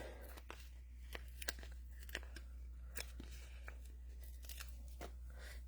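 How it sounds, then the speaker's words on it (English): Scissors snip through the edges of a handmade card in a quick run of sharp, close cuts, faint over a steady low hum, with no voice. "I'll just cut these edges off."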